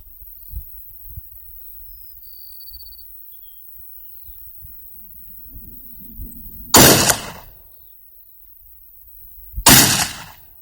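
Two sharp, loud Ruger Mini 14 rifle shots crack out a few seconds apart at an outdoor range, each ending in a quick fading tail, over a quiet background with faint birdsong and light handling noises.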